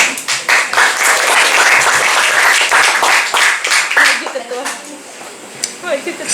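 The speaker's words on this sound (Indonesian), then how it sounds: "Mantap, tepuk tangan." A crowd of young church members at a parish gathering claps loudly in bursts, with the sound thinning and tapering off toward the end while voices murmur underneath.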